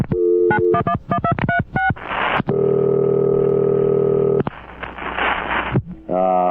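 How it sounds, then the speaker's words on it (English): A rapid series of touch-tone dialing beeps, then a steady ringback tone and a burst of line noise, followed by a brief electronic chirp. "Look let's get Lou Philpott on the phone here."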